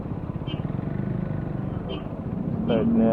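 Street traffic in Lipa, Batangas at night, with motorcycle engines rumbling and revving in a continuous wash that swells toward the end; voices are faintly present.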